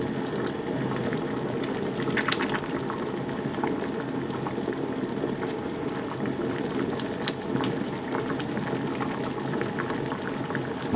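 Lemon confit simmering in a pot as it starts to boil, a steady broadband bubbling hiss with small pops and crackles throughout, close and even, with no talking.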